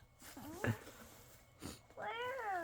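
A young girl playing inside an empty Amazon box imitates a cat's meow, giving one drawn-out, wavering meow near the end after softer vocal sounds, close and fairly loud.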